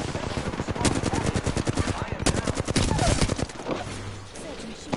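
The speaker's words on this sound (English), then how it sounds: "Opening fire on the enemy." Rapid automatic gunfire in an Apex Legends match crackles in dense bursts, loud and close, with a short pause before a final burst. A brief electronic tone follows.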